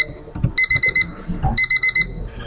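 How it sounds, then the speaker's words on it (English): An online alarm rings from a computer during a virtual class session, sounding as two bursts of four quick, loud electronic beeps with a short pause between them over faint room noise. "That's your online alarm."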